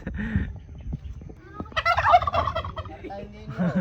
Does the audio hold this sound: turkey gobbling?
yes